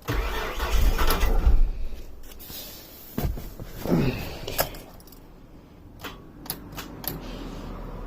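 A 1999 Isuzu Trooper Limited that has sat unused for a month, with a worn starter solenoid, cranks and catches roughly, a loud uneven burst followed by ragged running and a few sharp clicks, heard up close.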